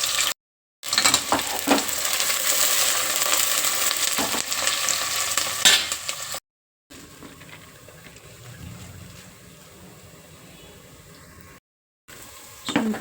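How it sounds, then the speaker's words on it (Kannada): Tempering spices sizzle and crackle in hot oil inside a pressure cooker, a steady, fairly close hiss broken by two short gaps and quieter stretches. "ನಾನು ಬೇಗ ಮಾಡೋದಕ್ಕೆ ಫಸ್ಟು ಒಗ್ಗರಣೆ ಮಾಡ್ಕೊತೀನಿ. ಸೊ ಒಂದೇ ಸಲ ಕುಕ್ಕರಲ್ಲಿ ಮಾಡೋದ್ರಿಂದ ಬೇಗ ಆಗುತ್ತೆ ಇದು"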